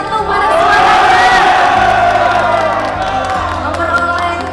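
A large crowd of students at an indoor award ceremony roars in a loud, sustained cheer of shouts and whoops, swelling early and holding steady over a low humming background.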